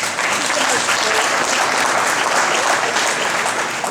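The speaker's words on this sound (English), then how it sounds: "Let's give Jamie a round of applause, please" Loud, dense applause from an audience at a spring parent meeting, continuous clapping that holds steady throughout without any break.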